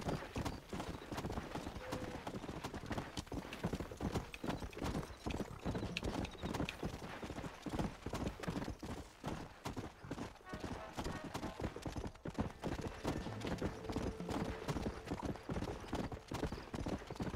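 Rapid, continuous clip-clop of horse hooves at a brisk trot in the video game Red Dead Redemption, loud and close, with brief bits of talk over it.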